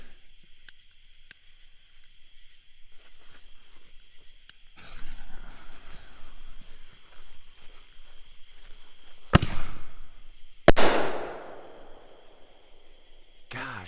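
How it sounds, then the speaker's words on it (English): Cheap consumer firework ball shells: a few sharp crackles and fizzing, then a launch hiss and two loud, hard-hitting booms with rumbling tails, fairly close and outdoors. "those are some of the hardest hitting ball shells I've seen in a while"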